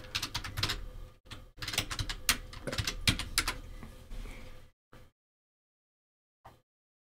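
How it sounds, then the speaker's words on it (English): Fast computer-keyboard typing in dense bursts with a short pause, ending in a few isolated keystrokes and then silence, close and fairly loud with no voice over it. "Let me just type that in."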